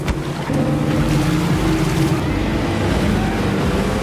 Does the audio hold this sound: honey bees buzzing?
no